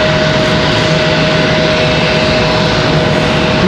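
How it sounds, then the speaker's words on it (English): An American Airlines jet arriving from Phoenix at Charlotte Douglas airport roars loud and close, a steady broadband engine rush with a sustained whine and no talk. "American Airlines 2226 from Phoenix, Arizona. Our next arrival."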